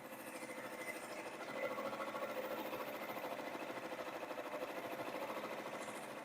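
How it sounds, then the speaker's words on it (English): Embroidery machine stitching out an awareness ribbon angel design, a fast steady rhythmic needle buzz, faint and continuous with no pauses. "I am really, really liking how this is stitching out."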